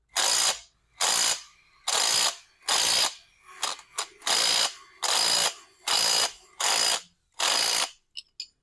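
A hand ratchet tightens a bolt on an Opel Blazer power steering pump, delivering about ten loud, close clicking strokes in steady rhythm, each a dense burst of pawl ticks separated by brief pauses.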